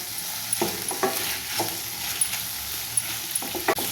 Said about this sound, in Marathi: मसाले घातल्याच्या नंतर सर्व एकदा परत मिक्स करून घ्यायचं